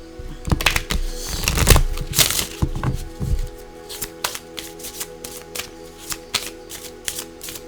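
A deck of oracle cards is reshuffled by hand, with quick riffling bursts and crisp card snaps up close, then lighter scattered taps and flicks as the shuffling slows.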